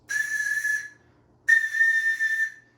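A Sharpie marker lid blown across the top gives two steady, clear whistle tones, each just under a second long and separated by a short pause, close and alone.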